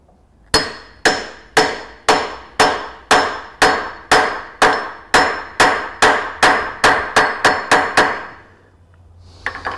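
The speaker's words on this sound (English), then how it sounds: "I get a hammer and my fitter, and I want to seat it." A hammer taps a wooden duck call onto a fitter steadily about twenty times, each strike ringing with a bright woody clang, gradually speeding up before stopping.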